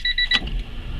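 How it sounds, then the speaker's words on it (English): A high electric whine from the fuel pump of a 400hp race Honda Civic, heard close for about a third of a second as the pump kicks on, then fading into a low rumbling background. "Fuel pump kicked on."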